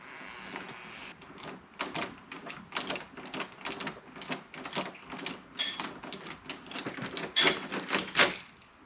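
Phillips screwdriver turning out screws from a door knob lock with a broken latch, a run of close, quick ratcheting clicks and metallic scrapes that grow louder toward the end, with no talking.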